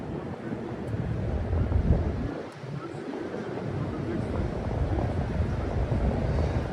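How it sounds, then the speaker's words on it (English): Wind buffets the microphone outdoors in New York City, a constant low rumbling roar that dips briefly and then keeps blowing steadily, loud and close. "Ooh, it's getting very windy here."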